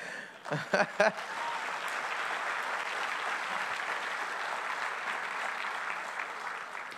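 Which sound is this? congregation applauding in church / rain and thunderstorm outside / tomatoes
congregation applauding in church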